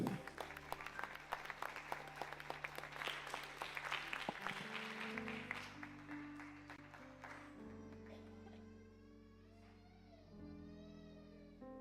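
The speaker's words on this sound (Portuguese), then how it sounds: "Aplauda o Senhor pela vida de Elaine." A church congregation applauds steadily for several seconds at a service, the clapping thinning out as sustained keyboard or organ tones take over.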